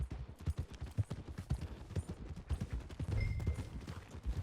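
Horse hooves in Red Dead Redemption 2: a steady, close clip-clop of hoofbeats at a brisk walk throughout, with faint background game sounds.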